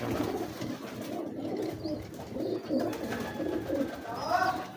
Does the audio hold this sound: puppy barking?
no